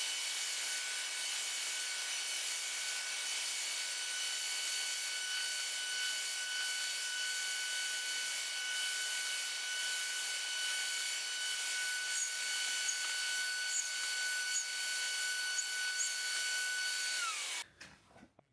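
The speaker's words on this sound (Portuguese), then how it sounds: "Vamos colocar isso na mesa da tupia e fazer o trabalho." A router table cuts a small 45-degree chamfer on wooden pieces for shaker-style cabinet doors, giving a loud, steady high-pitched motor whine that holds for about seventeen seconds before winding down abruptly at the end.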